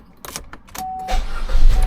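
Electronic lock of a Chevy car releasing after a key fob press, a short beep followed by mechanical door-lock clunks and rising cabin rustle, up close.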